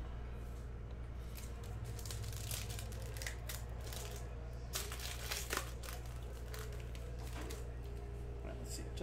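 A Panini Prizm basketball retail card pack being ripped open, with close crinkly foil tearing and rustling over a steady low hum, someone talking briefly.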